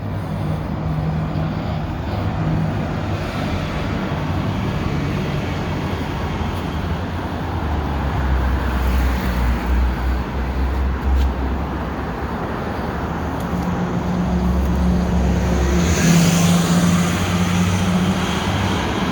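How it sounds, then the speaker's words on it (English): Steady roadway roar from a Montreal expressway beside train tracks, a continuous low rumble with vehicles swelling past, loud and unbroken, with no talking. "we have an expressway here and a couple of train tracks"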